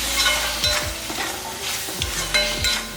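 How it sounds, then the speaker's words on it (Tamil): A broccoli masala fry is stirred in a pan over a slow flame, with a steady sizzle under rhythmic scraping strokes of the spatula, several distinct sweeps close and fairly loud, no voices. "நல்லா ஒரு வாட்டி நல்லா பரட்டி விட்டுடலாம்"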